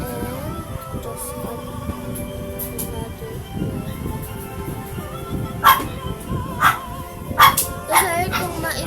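A pet dog waiting to be fed yips and barks in the background, several short bursts growing louder near the end, heard under ongoing talk and room noise.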